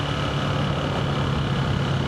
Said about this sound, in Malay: Memang enjin KTM ni dia kasar.